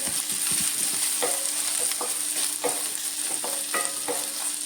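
Onions frying in oil in a pan for a chicken curry, a steady close sizzle with repeated scraping clicks of a spoon stirring through them at an uneven rhythm.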